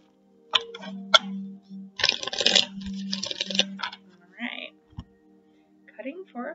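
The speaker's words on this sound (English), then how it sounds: "One more shuffle, and then I'll cut." A tarot deck is shuffled up close, with crisp riffling and tapping bursts of cards between short pauses and a few faint voice sounds.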